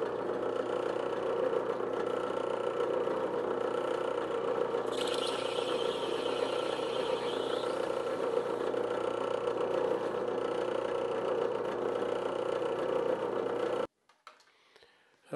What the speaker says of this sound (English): Now I'm just going to take a moment and drill those countersink holes.